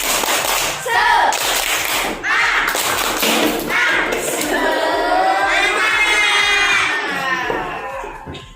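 A school class claps together in a fast rhythmic spirit chant, with children shouting and cheering along loudly throughout.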